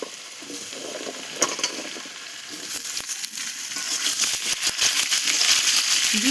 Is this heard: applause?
no